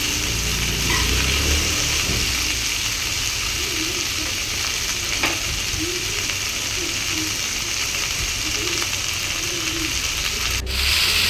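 Spinach sautéing in oil in a pan, with a steady close frying sizzle and a soft stirring scrape running throughout, alone without voices.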